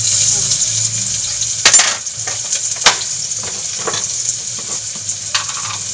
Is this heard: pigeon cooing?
no